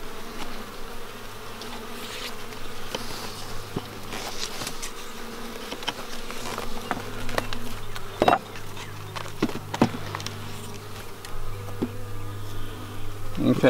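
Honey bees swarm around an open beehive while a super is added, a steady close buzzing drone with occasional wooden knocks and clicks from the frames, and a few voices now and then.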